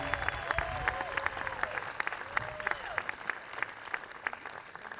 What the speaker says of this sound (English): Let's give Israel another round of applause.